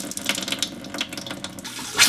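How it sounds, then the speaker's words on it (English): Water from an RV faucet runs steadily as the onboard water pump pushes pink antifreeze through the plumbing during winterizing, a continuous hissing flow with a brief louder gush near the end. "we'll turn on the pump, turn on a fixture, and wait for it to turn pink"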